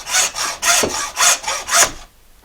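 A hand tool saws through bone while carving an ornate fish hook, six rhythmic rasping strokes in quick succession, close and fairly loud, then stopping into quiet.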